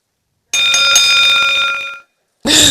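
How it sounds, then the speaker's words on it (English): A loud, steady electronic buzzer sounds for about a second and a half, then cuts off; a short burst of noise follows after a brief silence. "buzzer."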